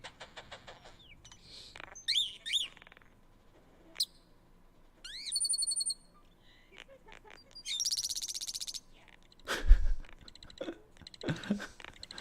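A bird gives scattered bursts of chirps, rising whistles and buzzy rattling notes separated by short pauses, fairly faint against a quiet background.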